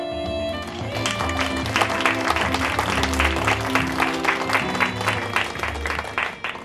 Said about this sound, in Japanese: 拍手をお願いいたします